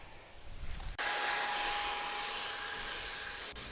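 An Enhulk 930 cordless leaf blower fitted with a siphon nozzle kicks on abruptly after a moment of quieter outdoor sound, then roars loud and close in a steady high whine with a faint whistling tone.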